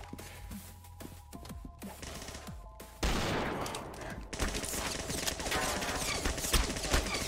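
Rapid gunfire from the Roblox game Arsenal in a one-on-one match, starting as sparse distant shots and then swelling into a loud, dense burst of continuous firing for the last four seconds.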